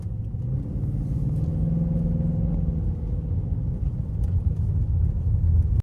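A BMW X5 E53 SUV drives along with a low, steady engine rumble and road noise, heard from inside the cabin and slowly building in loudness.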